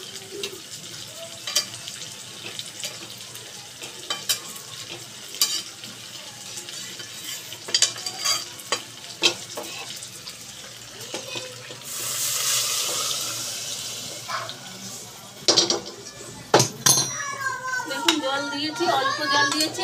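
Water poured into a pot of cooking mutton curry, a broad rushing splash swelling for a few seconds amid sporadic utensil knocks and stirring, with a voice speaking at times.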